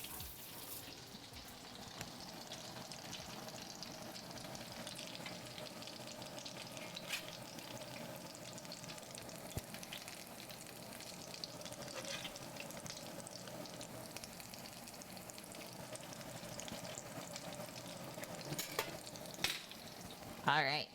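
Zucchini and feta fritters fry in a pan, giving a soft, steady sizzle that runs unbroken and fairly faint, with a few light clinks near the end.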